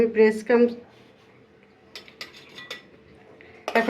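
Chicken pieces dipped into beaten egg for cutlets give off light clinks of a utensil against a bowl, soft wet dabs and a few taps, with a voice talking briefly at the start.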